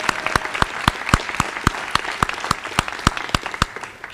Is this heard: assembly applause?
yes